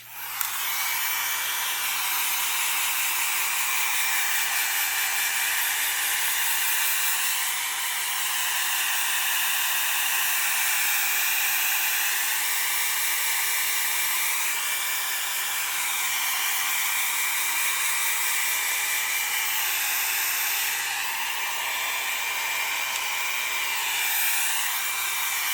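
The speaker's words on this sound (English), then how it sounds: "So let me dry that real quick." Hair dryer blowing on a vintage-style wrap-around craft journal, a steady loud whooshing hiss with small shifts in pitch as it moves, running continuously for about twenty-five seconds with no talking.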